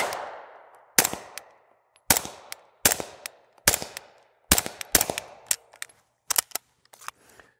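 A SIG Sauer P226 9mm all-metal pistol fires eight or nine sharp, loud shots at a steady pace of about one per second, each crack followed by a short echoing decay, with a few quicker doubled shots near the end.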